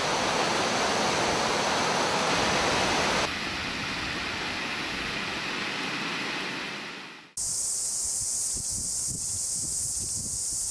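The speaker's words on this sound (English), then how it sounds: "After heavy rains, existing waterfalls turn into raging torrents, and hundreds of new ones appear from nowhere." Steady, loud rushing water roars without pause, a dense broadband wash of rain-swollen waterfalls and torrents in New Zealand's Milford Sound, shifting in tone partway through but never letting up.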